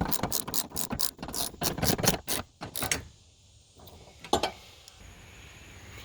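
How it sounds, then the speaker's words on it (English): A hand ratchet clicking rapidly as it tightens the bracket bolts of a Tuffy underseat lockbox in a 2020 Ford F250 crew cab, a close run of sharp ticks, a pause, then a couple more clicks. "the final step is to lock down the bracket bolts for the back"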